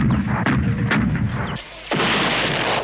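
Cartoon cannons and muskets fire in a classic animated battle scene: several loud, close booms and cracks come in quick succession, then a brief lull before a roaring wash of gunfire resumes.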